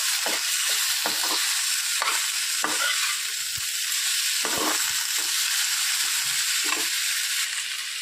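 Onion, tomato and chili masala stirred in a hot pan, a steady close sizzle broken by repeated scraping spoon strokes, no voices.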